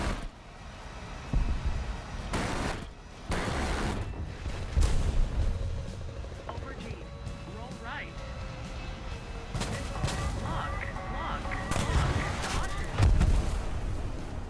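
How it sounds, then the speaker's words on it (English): Gunfire and booming cannon shots in the War Thunder combat game, bursts of heavy firing over rumbling engine noise, loud and close with irregular spacing. "And I'm gonna kill the light pillbox with my gun."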